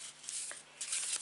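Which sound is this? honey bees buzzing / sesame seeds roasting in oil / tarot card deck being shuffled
tarot card deck being shuffled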